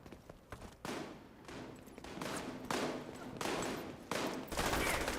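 A lightweight M4 rifle fires in the shooter video game The Division 2, with several loud bursts of automatic fire separated by short pauses, set against faint background noise.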